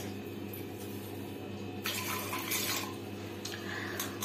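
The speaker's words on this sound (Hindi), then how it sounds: "अब इसमें मैं एक गिलास पानी डालूंगी" Water splashes and pours into a metal pressure cooker holding amla (Indian gooseberries) for a couple of seconds, with a faint clink of cookware, after a quiet steady hum.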